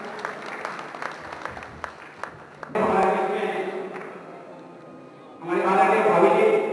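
At a seminar, an audience breaks into two bursts of clapping to honour guests, the first rising after someone speaks and fading out, the second swelling loud near the end.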